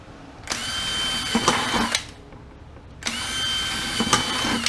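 A power drill bores holes in an apartment composter bin in two loud bursts of whirring about a second and a half long, separated by a short pause, close up and without speech.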